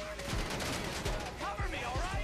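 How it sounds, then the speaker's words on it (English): Rapid bursts of gunfire in the video game GTA crackle in quick succession under a continuous din, with a player's voice talking over the shots. "where am I getting shot from?"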